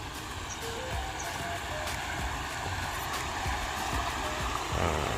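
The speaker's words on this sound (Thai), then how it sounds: "ตรงนี้เป็นน้ำตกน้ำตกหนึ่งนะครับ" A waterfall at a riverside campsite in Saraburi, Thailand, rushes in a steady, dense roar that never lets up, heard close with no voices over it.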